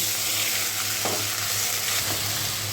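Ginger, garlic, onion and dried red chillies fry in hot oil in a wok, giving a steady, close sizzle with a couple of faint utensil clinks partway through.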